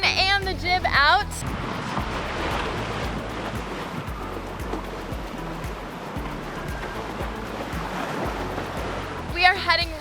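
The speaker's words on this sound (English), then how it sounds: "The engine is off completely, so we are sailing." A sailboat under main and jib with the engine off moves at about six knots, with steady wind rush and water washing along the hull, and brief voices at the start and end.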